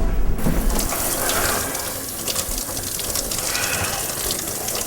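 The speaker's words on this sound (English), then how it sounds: "I'm gonna go wash my face off again." Water runs steadily and fairly loudly from a sink tap during face washing, a continuous close gush with slight splashing. No one talks.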